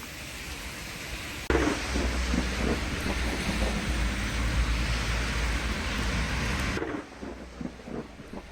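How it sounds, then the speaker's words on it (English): Torrential rain in Perpignan pours down in a loud, steady roar that surges in abruptly, holds heavy and unbroken for several seconds, then drops back to a lighter patter. "It's torrential rain in Perpignan."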